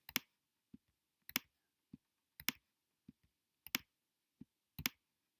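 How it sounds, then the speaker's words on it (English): A computer mouse clicks while drawing a bridge in Bridge Designer 2016: crisp, close clicks come in quick pairs, with single softer clicks between them, in a steady repeating rhythm against silence. "I'm just clicking and dragging and then letting go."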